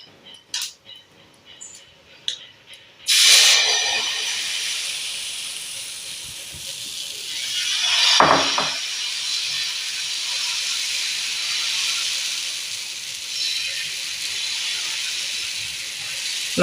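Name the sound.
wheat adai batter poured onto hot dosa griddle, sizzling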